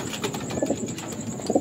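A racing pigeon coos in low, soft bursts close by, with a faint steady background hum.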